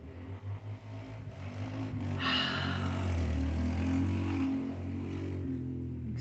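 Dirt bikes and four-wheelers riding down a residential street, their engines droning and revving at a steady middle distance with a swelling pass partway through, no talk.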